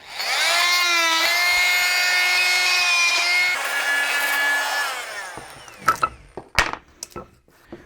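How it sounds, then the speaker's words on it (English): An oscillating multi-tool trims wooden tabs left from a desktop CNC router job: a loud, steady buzzing whine for about five seconds, then several sharp knocks and clatters as the cut ends. "A really simple way to cut these tabs is to use an oscillating tool."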